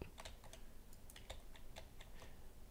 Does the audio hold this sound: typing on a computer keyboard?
yes